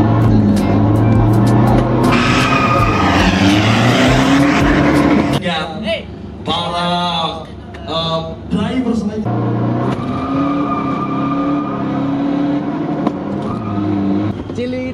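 A Toyota Hiace van makes a drag racing run at a bracket drag fest, its engine roaring and revving hard, then dropping back. A commentator and crowd talk loudly over the noise.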